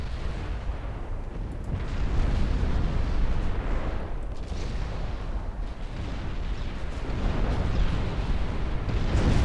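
A heavy cruiser's torpedoes blowing up in a naval battle in Ultimate Admiral: Dreadnoughts, a continuous roar of deep, rumbling explosions and booming fire that swells and stays loud throughout, with no voices.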